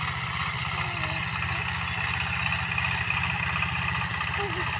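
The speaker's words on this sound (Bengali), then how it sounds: "দেখেন, পাওয়ার টিলার দ্বারা জমি চাষ দেওয়া হচ্ছে" A power tiller engine ploughs a field before mustard sowing, a close, steady, rapidly pulsing low chug that continues evenly throughout.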